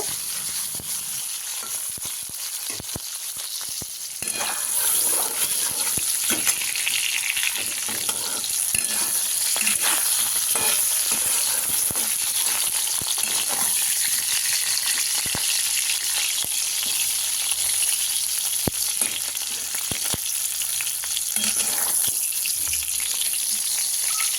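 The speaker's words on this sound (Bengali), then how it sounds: "সেই তেলের মধ্যে আমি দিয়ে দিলাম সেই একটা কেটে রেখেছি যে ক্যাপসিকাম, সেই ক্যাপসিকামটা বেশ সুন্দর করে আমি এখানটায় ফ্রাই করব।" Capsicum frying in oil for a Bengali-style aloo paneer curry, a steady close sizzle that grows louder after the first few seconds and continues with stirring throughout, no voices.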